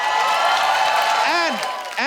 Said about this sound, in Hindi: सो जोरदार तालियों के बीच please welcome very talented and very handsome mister Aditya Roy Kapoor